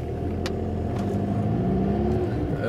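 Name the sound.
Volkswagen Beetle 1303 engine revving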